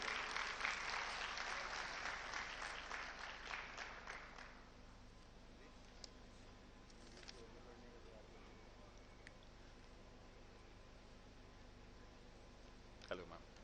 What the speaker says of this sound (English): round of applause for you